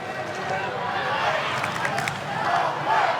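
A large stadium crowd roars at a Dolphins versus St George Illawarra Dragons NRL rugby league match, a broad steady swell under commentary.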